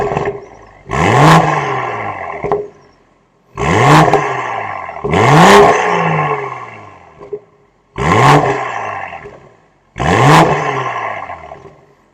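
A 2023 BMW M240i xDrive in Sport Plus mode, warmed up and fitted with an M Performance exhaust, gets five sharp throttle blips, each rising and dropping quickly, with short gaps between them.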